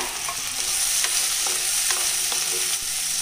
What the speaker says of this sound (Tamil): காய் இது நல்லா எண்ணெயில் நல்லா வதக்கிட்டாதாம்மா நல்லாயிருக்கும்.